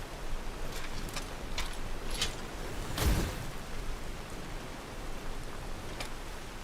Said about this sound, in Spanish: Y está lloviendo a cántaros